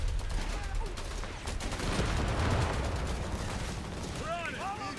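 Sustained battlefield gunfire in Company of Heroes 3, with rattling machine-gun bursts and rifle shots mixed with distant blasts and soldiers' voices calling out over the din.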